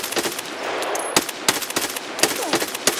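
Sharp, loud gunshots in Escape from Tarkov, a run of separate close shots and short bursts at uneven intervals over a low background hum.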